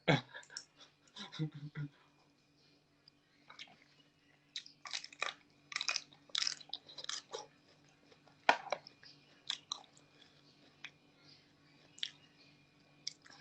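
Someone eats dry Thai noodles with loud, close crunching and smacking bites in irregular bursts, separated by short quiet gaps over a faint steady background hum.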